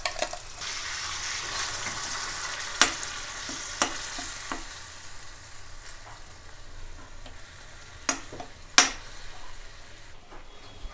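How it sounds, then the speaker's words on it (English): Prepared masala fries in hot oil for a mutton sukka, producing a continuous soft sizzle broken by several sharp scrapes and clinks of a utensil against the pan. "we'll add the masala that we had prepared earlier, and fry this for around 2 minutes"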